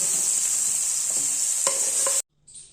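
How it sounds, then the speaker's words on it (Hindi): Shish kebab frying briefly in masala in a pan gives a steady, close sizzle with a couple of stirring scrapes, then cuts off abruptly to near silence before a faint hiss returns. "बस थोड़ी सी देर ही भुनेंगे इस मसाले में"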